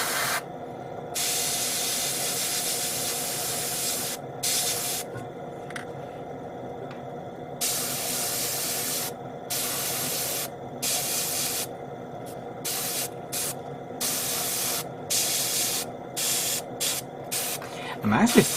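An airbrush or spray can sprays a gloss coat onto a Bandai plastic model kit of the 1/72 Queadluun Rau. The loud hissing bursts come in repeated on-off spurts of varying length, with short pauses between them.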